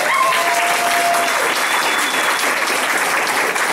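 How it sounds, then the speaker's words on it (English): A hearing-room audience at a public comment session on the Jordan Cove liquefaction plant bursts into steady, dense clapping that stays loud and even throughout, with a faint whistle or murmur drifting above it. "undeserved clapping there."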